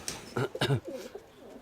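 Pigeons coo nearby in a loft, two soft throaty bursts followed by fainter rolling murmurs.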